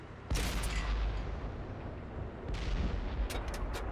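A tank cannon fires in World of Tanks, a sharp loud blast followed by rolling boom and echo, then a second burst of impacts and crackling shots a couple of seconds later.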